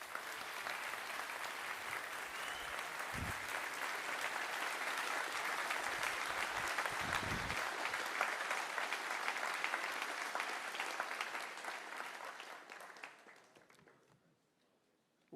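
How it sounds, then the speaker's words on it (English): Sustained audience applause at the closing ceremony of the International Physics Olympiad in France, a dense even clapping from a large crowd that holds steady, then fades out over the last few seconds. "Please give a huge round of applause to Alain Aspect."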